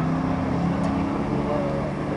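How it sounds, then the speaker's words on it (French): Engine noise from a race between a latest-generation Golf R and a 1955 Chevrolet Bel Air at a security run in Satigny, a steady broad roar at moderate distance under a commentator's voice. "la Golf R de dernière génération pour Ludovic Schwab face à la Chevrolet Bel Air de 1955"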